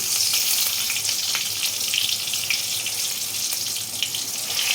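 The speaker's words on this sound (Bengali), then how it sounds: "আমি কিন্তু নুন ছাড়া বেগুনটা ভাজলাম" Eggplant slices frying without salt in hot oil, cooked as a side for a hilsa fish curry, give a steady, close hiss and crackle of sizzling that runs unbroken throughout, with no voices.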